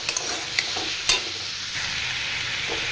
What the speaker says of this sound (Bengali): তারপরে এটাকে একটু নাড়াচাড়া করব।